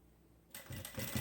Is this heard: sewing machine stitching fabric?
yes